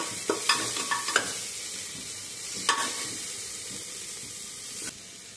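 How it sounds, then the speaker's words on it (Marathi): Chopped onion sizzles and fries in a hot pan for spicy pavta bhat, with a steady hiss broken by a few sharp scrapes of stirring. "त्यानंतर घालूया थोडासा कांदा। कांदाही छान लालसर रंगावरती परतायचा आहे।"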